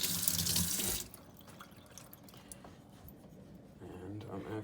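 Tap water runs over a coticule sharpening stone to rinse off grit, a loud hissing splash for about a second, then quieter rubbing and handling sounds while a person talks.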